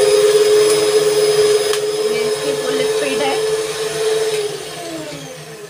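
A DSP stand mixer runs with its bowl rotating, giving a loud, steady motor whir with a constant humming tone, close up, easing slightly near the end.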